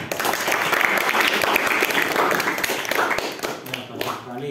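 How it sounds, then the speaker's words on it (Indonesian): Applause from a classroom or teacher-training session audience, a dense burst of many hands clapping that holds steady for several seconds before thinning out near the end. "tepuk tangan."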